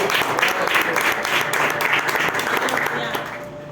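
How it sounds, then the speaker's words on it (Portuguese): Church congregation applauding during a Portuguese-language sermon, dense steady clapping from many hands filling the room, fairly loud and continuous, tapering slightly at the end. "Você pode aplaudir a Deus por isso?"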